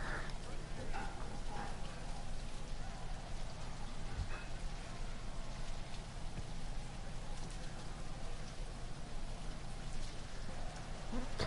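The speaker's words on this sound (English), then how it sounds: "The odd like sounds of the rain are quite interesting in this game." Rain ambience in the Maximum Football 2019 video game, a continuous dense hiss of falling rain at steady level, with someone talking over it.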